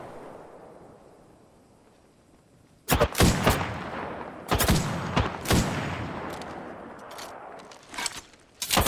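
After a quiet opening, several loud, sharp bursts of incoming gunfire strike close by in Apex Legends, clustered shots followed by scattered hits.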